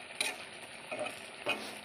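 Fish curry with bottle gourd shoots being stirred in a pan: three separate scraping, sizzling strokes about half a second apart, close and fairly soft.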